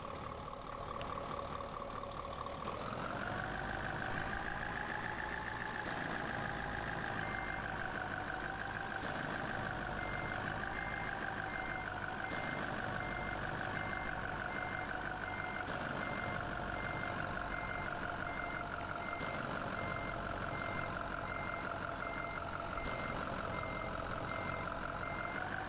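A Mercedes-Benz 1832 4x2 Axor skip-loader tipper truck in a driving game runs a steady, loud engine drone with a rising hydraulic whine as the load is emptied, and reversing beeps sound throughout.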